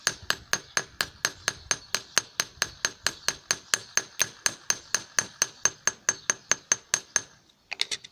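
A hammer strikes a copper wire pendant on a metal anvil in about twenty-five evenly spaced, ringing metallic taps, close and clear, before stopping.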